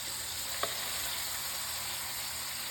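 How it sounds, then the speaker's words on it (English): Shrimp frying in a pan give off a steady, even sizzle with a faint crackle, heard alone without talk. "Now the shrimp have been cooking here for about a minute or so."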